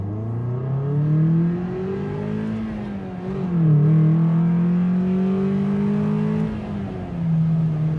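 A Mazda Miata NB's engine revs from inside the car with strong intake noise, a steady droning tone that rises, dips and climbs again through several smooth swells, loud and with no talk.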